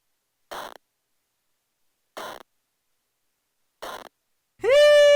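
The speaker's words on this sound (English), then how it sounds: "AZ Sick Computer preset," Hive synth preset AZ Sick Computer: three short, buzzy glitchy bursts evenly spaced, followed by a loud rising harmonic tone that swells at the end, heard alone without talk.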